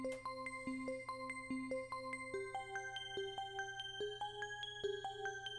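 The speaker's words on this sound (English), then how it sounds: "I had the bell with harmonics" A synth bell patch playing only its harmonic overtones, a repeating pattern of glassy ringing plucks in a dark, wavy beat, stepping up in pitch partway through over a steady low hum.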